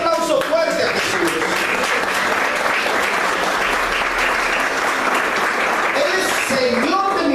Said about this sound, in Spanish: Den ese aplauso fuerte a Jesús.